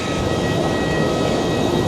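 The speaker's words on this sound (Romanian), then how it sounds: "Ăsta e avionul nostru" An airliner at the airport, the plane boarding for Mexico City, gives off a steady, loud broadband roar with a faint constant whine running through it for the whole moment, and no voices are heard.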